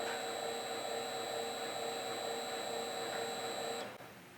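A steady, loud mechanical whine and hum from an in-feed auger filling a powder hopper on an automated batch weigh system, running evenly before cutting off abruptly near the end.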